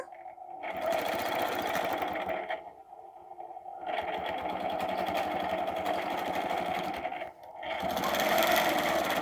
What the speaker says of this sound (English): and we're going to stitch an arc.